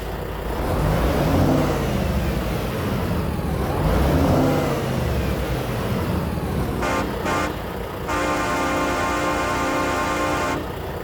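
A 2018 Volvo VNL truck in American Truck Simulator starting up, a loud diesel engine cranking and rumbling with rising and falling revs, then two short blasts and a long sustained blare from a custom air horn.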